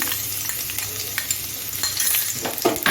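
Chopped garlic hits hot oil in a nonstick pan for chilli chicken, giving a steady close sizzle and crackle with a few soft stirring scrapes that grow livelier toward the end.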